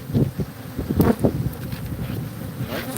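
Honey bees buzz around an open hive being inspected, with frames of brood and pollen exposed. A steady, dense insect drone is mixed with gusty wind rumble and occasional soft handling bumps, and no voices are heard.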